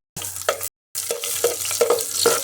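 Onions sautéing in a pan, a steady sizzle with scraping stir strokes, broken by a brief silent gap before the frying resumes close and fairly loud.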